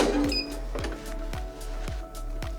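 A heat press works DTF transfers onto t-shirts with a run of sharp mechanical clacks at a fairly even beat, about five or six in under three seconds, over a low steady hum and heard close up.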